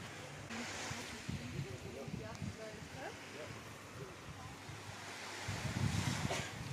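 Waves wash onto UU Golden Beach on Koh Chang, Thailand, as a soft continuous surf hiss with wind buffeting the microphone, while a voice talks faintly over it and a louder wash rolls in near the end.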